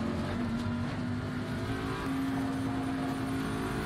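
Race cars in a sim racing game roar steadily past the pits at Spa, a continuous engine drone with a sustained high whine and no clear individual pass-bys.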